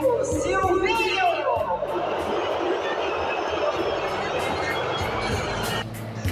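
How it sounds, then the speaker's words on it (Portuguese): Booing and jeering from a stadium crowd at the Corinthians arena aimed at coach Silvinho, a dense, steady roar of many voices that fills the space throughout and dips slightly near the end. "Uma noite que começou com vaias antes mesmo do início do jogo."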